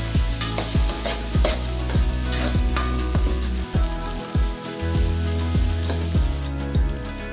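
Tomatoes being stirred into a sizzling crab dish in coconut milk with ginger, producing a loud, close frying sizzle with rhythmic scraping stirs repeating about every half second, and no voices.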